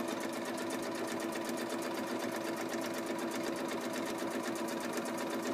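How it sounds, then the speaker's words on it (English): Sewing machine running steadily, stitching fabric in a continuous fast rhythm down to a pin, close and loud throughout without pause. "I'm sewing all the way down to my other sideways pin."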